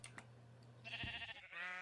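A video-game sheep bleats, a wavering tonal cry that starts, breaks briefly, then resumes, heard alone over a soft steady game hum and a couple of faint clicks.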